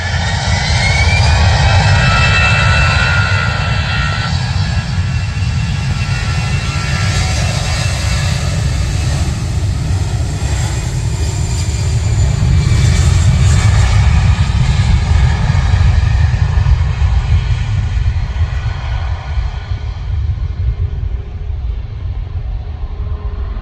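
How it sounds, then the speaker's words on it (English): An EasyJet jet taking off from Manchester Airport makes a loud, sustained rumbling roar that swells in the middle and slowly fades near the end, steady and continuous with no talk. "Oh yeah, look at that EasyJet going off. Yeah, there's the plane that's just took off."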